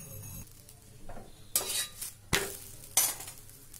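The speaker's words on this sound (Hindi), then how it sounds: "और एक दूसरा पराठा मैंने बेल के तैयार कर लिया था, तो इसको भी डाल देंगे तवा पे।" Methi paratha cooks on a tawa with a soft sizzle, broken by several sharp clanks and scrapes of a spatula against the pan, fairly close, no voices.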